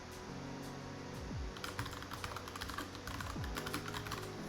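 Typing on a computer keyboard while entering an email address, a quiet run of quick key clicks over low background hum.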